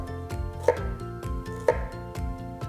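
A knife dices an onion into small cubes on a cutting board in a steady run of quick taps, with a couple of sharper knocks, over a sustained tonal background.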